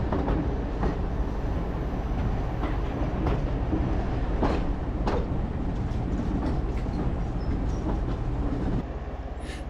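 The "Teddy Bear" steam locomotive in Norfolk Regiment livery running on the Nene Valley heritage railway near Yarwell, a steady loud rumble of train wheels with rhythmic clickety-clack, heard close and continuous throughout.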